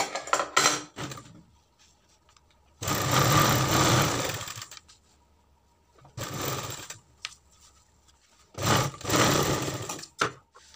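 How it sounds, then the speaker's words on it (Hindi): A foot-pedal sewing machine stitches a fabric sleeve in three separate bursts of rapid, whirring clatter, each lasting one to two seconds, with quiet pauses of cloth handling between them. "एक पैर का दबाव लेते हुए हमें सिलाई लगा देनी है"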